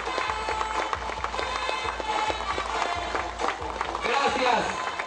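An audience applauds at a mayor's agreement-signing ceremony in Pacora, Peru. The clapping is steady and continuous throughout, with a lively, crowded room feel.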